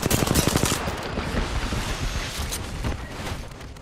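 A Wraith fires an R99 gun in a video game, a loud and dense stream of rapid automatic gunfire that rattles on without pause over a few seconds.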